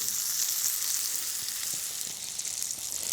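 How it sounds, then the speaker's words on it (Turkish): A homemade hamburger patty fries in a pan with a steady, close sizzle and faint crackles throughout, without any voices. "Ve şimdi köftenin pişmesini bekliyorum."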